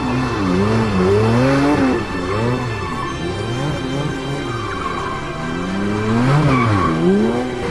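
A doorless Porsche 911 GT3 being driven hard, its engine revving up and down in sweeping pitch changes with tire squeal, loud and close for the whole stretch.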